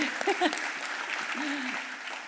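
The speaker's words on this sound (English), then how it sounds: "let's clap to that" Applause from the audience at a city's State of the City address, a broadband patter of clapping running steadily through the moment while a voice speaks over it.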